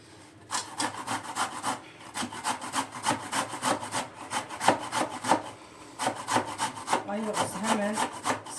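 Quinces are grated by hand for jam, a rapid series of rhythmic rasping strokes up close, pausing briefly between bursts.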